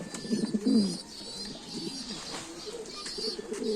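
Tumbler pigeons in a loft give soft, throaty coos, with one fuller burst near the start and quieter murmurs after, over a faint background hiss.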